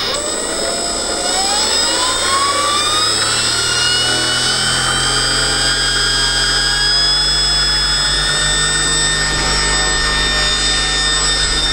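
Small RC brushless motor spinning a LotusRC T380 propeller on a thrust test stand, a loud steady whine with tonal harmonics that rise in pitch as the RPM steps up, running continuously throughout.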